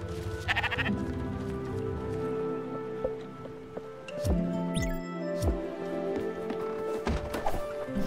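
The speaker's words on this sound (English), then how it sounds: "Oh, there's the sheep!" Sheep bleat from a sheep corral in the video game Spiritfarer, a few distinct calls over layered game music and small thunks, fairly close and clear.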